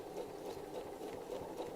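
Domestic sewing machine stitching along a traced line while making a soft toy, a steady low mechanical whir with a faint rhythmic rattle, close and quiet.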